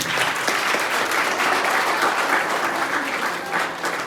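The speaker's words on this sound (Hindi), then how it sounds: "मैं चाहता हूं कि सभी बेटियों के लिए जोरदार तालियां होनी चाहिए।" Steady, dense applause from a large crowd at an International Women's Day celebration in a teacher education institute, loud and continuous throughout without pause.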